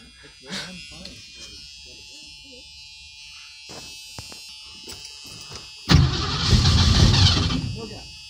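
A 1977 Ford Mustang's engine cranking in an attempt to start: a loud, buzzing, whirring burst that rises suddenly and holds for about two seconds, coming after a stretch of people talking nearby.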